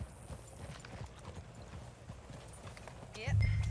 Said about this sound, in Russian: Так, моя лошадь тоже бежит.